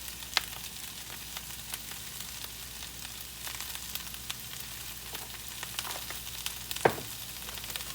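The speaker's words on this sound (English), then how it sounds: "And you can hear that iron skillet sizzling." Soft, continuous sizzling of food frying in a hot iron skillet, with occasional faint clicks and pops and no talking.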